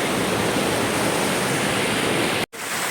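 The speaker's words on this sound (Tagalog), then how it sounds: "Nandito po tayo sa pinakataas kung saan po nanggagaling yung tubig na bumababa po doon sa bato-bato na yun" A waterfall pours down rocks in Riyadh, Saudi Arabia, heard from the top where the water starts its drop: a loud, steady, close rushing roar that cuts out for a moment near the end.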